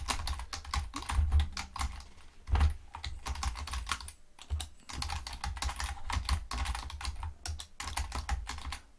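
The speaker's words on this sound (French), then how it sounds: "je peux écrire sur cette zone de texte" Steady typing on a computer keyboard, quick clusters of clicky keystrokes with short pauses between bursts, close and clear, with no voices.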